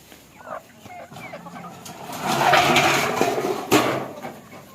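Backyard chickens clucking around a scratch pan of feed mixed with green beans, sweet corn and cracked corn, a busy cluster of soft clucks and scratching building in the middle, close and moderately loud.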